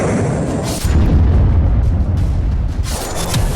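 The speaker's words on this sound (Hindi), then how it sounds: "इजराइल में धमाका" A blast reported in Israel amid a missile attack on cities: a loud, deep boom rumbles in at about one second and rolls on, with another low surge near the end; no voices.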